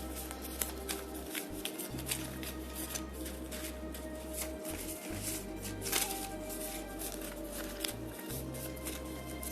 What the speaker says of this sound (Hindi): ये शफल नहीं हो रहे because these are papers, obviously these are not cards, तो शफल करना उतना आसान नहीं है।